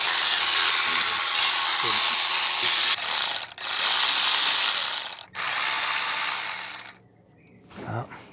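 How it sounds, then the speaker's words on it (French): An electric ratchet spins out Torx E8 screws on a 2005-era Renault Mégane 2 1.9 dCi, a loud high-pitched whirring run in several close bursts with brief pauses, ending before a short voice. "Cherchez le cliquet électrique."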